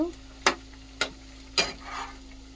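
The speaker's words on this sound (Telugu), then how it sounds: "అల్లం వెల్లుల్లి పేస్ట్ వేసాం కదా ఇదైతే బాగా కలుపుకుందాం ఇప్పుడు" Spoon stirring ginger garlic paste for chicken pickle in a pan, with four sharp scraping strokes spaced evenly over a faint sizzle, close and clear.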